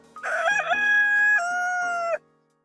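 A rooster crows loudly nearby, one long harmonic cock-a-doodle-doo call, preceded by brief clucking.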